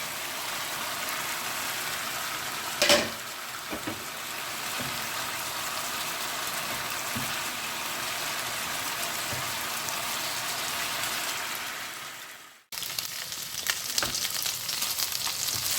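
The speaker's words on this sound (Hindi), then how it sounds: "अच्छे से फ्राई कर लें और इनके रेशे बना लें।" Chicken pieces frying in a pan for cheese potato balls give a steady, close, unbroken sizzle with a brief louder clatter near the start and a short pause late on before the sizzle resumes.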